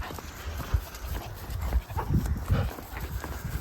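Dogs walking along a road outdoors, with soft pattering paw steps, panting and scuffling close by over steady background noise.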